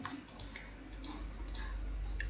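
Computer mouse clicking at close range, a few soft, quick clicks in pairs over a faint background hum.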